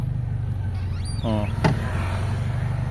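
A Honda Civic ESi with a low-power fault idles in a steady, low, close rumble, while a brief voice rises over it partway through.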